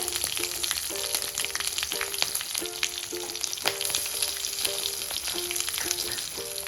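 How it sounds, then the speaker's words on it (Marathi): Green chilies and asafoetida frying in hot oil for a kadhi pakoda, a steady close crackling sizzle with light clinks of a stirring spoon against the pan throughout. "आता ह्यामध्ये मिरची हिरवी मिरची आलं लसूण ची पेस्ट घालूया छान परतून घेऊ"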